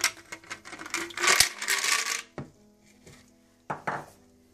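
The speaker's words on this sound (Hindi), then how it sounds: "सबसे पहले आप ग्राइंडर में बर्फ डाल लें।" Ice cubes tumble into a kitchen grinder jar for a strawberry banana smoothie, making a bright clattering rattle for about two seconds, followed by a few separate hard clinks. No talk.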